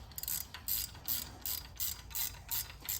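A ratchet with a deep socket tightens an oil catch can bolt on a 2021 Dodge Durango SRT. About eight quick rasping clicking bursts come in an even rhythm, close and fairly quiet, with no talking.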